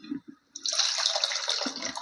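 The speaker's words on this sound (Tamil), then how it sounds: "இன்னும் கொஞ்சம் தண்ணி ஊற்றிக்கலாம்." Water poured into a pot of simmering lentil vada kuzhambu, a short low clatter followed by a bright, steady splashing pour, close and alone.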